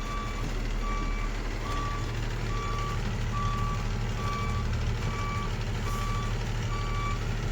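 Steady, evenly spaced reversing beeps ring out from sand-hauling trucks at a paper factory, over a constant low engine rumble that fills the whole stretch without voices.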